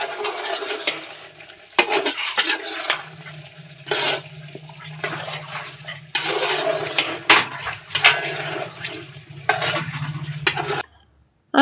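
A spoon scrapes and stirs beef curry in a pot at home, with repeated sharp scraping strokes over a low sizzle, close and fairly loud, without any voices.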